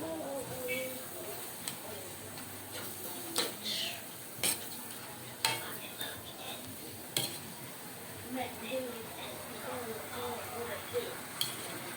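Marinated pork steak stirred in a pan, quiet scraping and occasional clinks of a utensil over a faint sizzle, soft and close, with a voice speaking at times.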